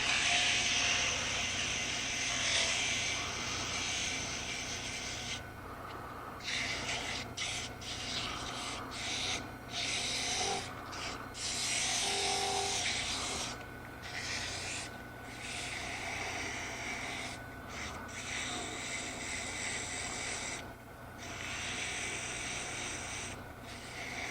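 Sandpaper rubs against a spinning wood turning on a lathe in a woodshop, a steady raspy friction sound broken by short pauses as the paper is lifted and pressed again, moderately close, with no talking.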